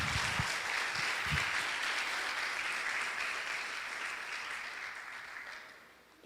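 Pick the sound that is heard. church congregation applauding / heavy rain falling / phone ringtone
church congregation applauding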